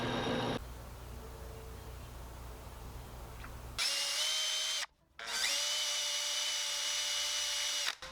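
A power drill bores eye sockets in a redwood crankbait lure, whirring steadily, stopping briefly for about half a second, then spinning up again and running at a high, even pitch.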